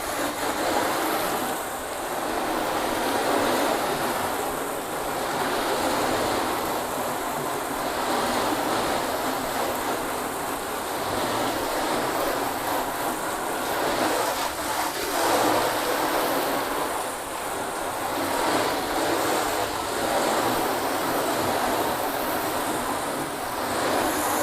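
Hose water rinsing down a dirty car test panel coated in spray sealants such as Turtle Wax, Meguiar's and Mothers, a steady loud hiss of spray and splashing that runs unbroken throughout with no talk.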